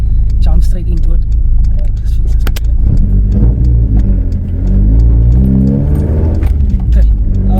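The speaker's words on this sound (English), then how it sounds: "we're sitting in his Mk1 Golf. It's powered by a 2-liter 16 valve. It's an ABF." A VW Mk1 Golf with a 2-litre 16-valve ABF engine, heard from inside the car, rumbles loudly and revs up near the end while people talk over the engine.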